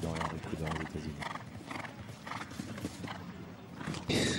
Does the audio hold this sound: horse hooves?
yes